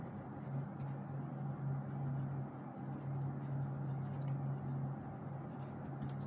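Marker or chalk writing on a classroom board during a coordinate geometry lesson, soft scratchy strokes coming in short bursts over a steady low hum, faint and somewhat distant, with no talk.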